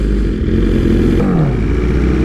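A motorcycle engine revs loudly and close up, then pulls away with a falling, accelerating tone as the bike rides off, alongside other riders gathered by a roadside.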